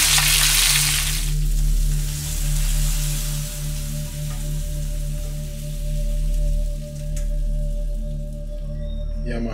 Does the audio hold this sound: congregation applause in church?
no